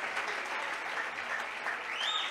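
Congregation clapping their hands together at a church gathering, a steady dense patter of many hands held at one level throughout, fairly close, with no talk over it.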